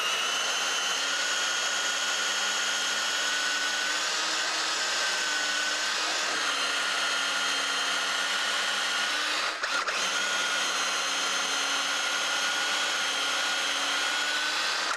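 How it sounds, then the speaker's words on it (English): An electric drill bores tuner holes in a guitar headstock held in a slotting and drilling fixture, giving a steady high whine that runs on continuously with one brief dip partway through. "Place your drill bit into the guide bushing and drill to the correct depth."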